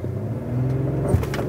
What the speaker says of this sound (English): let's try the acceleration of this car.